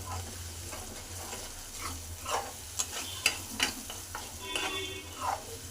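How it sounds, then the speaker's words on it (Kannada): Egg mixture being stirred in a hot pan while cooking egg curry, giving soft scraping strokes with light clicks and faint sizzling, quiet and close with no talking. "ಇವಾಗ ನೋಡಿ, ಮೊಟ್ಟೆ ಹಾಕ್ಕೊಂಡಿದ್ದೀನಲ್ವ, ಚೆನ್ನಾಗಿ ಮಿಕ್ಸನ್ನು ಮಾಡ್ಕೋಬೇಕಾಗುತ್ತೆ"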